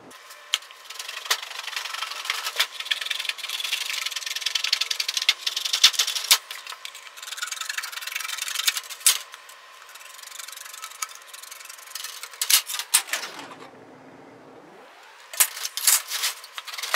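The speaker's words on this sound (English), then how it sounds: "Next we're gonna do is we're gonna cut our end caps off." Metal end caps being cut off, a steady rasping, grinding cut that runs for most of the time, then drops into a lower, quieter pass and returns to the harsh high cutting at the end.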